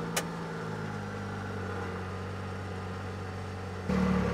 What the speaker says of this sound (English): The engine RPM changes and the sound of the motor changes.